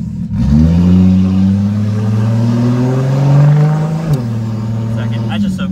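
A car accelerates hard with a ratchet shifter, its engine note climbing steadily, then dropping in one very quick gear change before pulling up again, close and loud.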